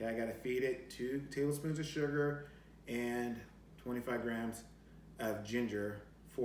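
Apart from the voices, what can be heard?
No everyday noises stand out.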